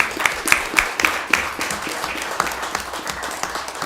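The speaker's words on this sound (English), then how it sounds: "A round of applause for our childcare providers in Lewiston." A city council meeting audience applauds childcare providers with a moderate round of clapping. A few sharp claps stand out early, then the applause settles into a steadier patter.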